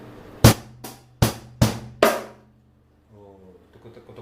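Drum kit playing a 16-beat pattern in its third variation with extra kick drum hits: five sharp, close strikes spaced about half a second apart, then a quiet tonal tail.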